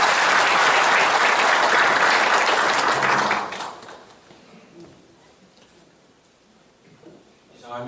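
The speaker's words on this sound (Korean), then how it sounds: "오늘 수상하신 분들한테 큰 박수 한번 보내주십시오" Audience at a Chamber of Commerce awards breakfast applauding award winners: dense, loud clapping that lasts about three seconds, then fades into quiet room murmur.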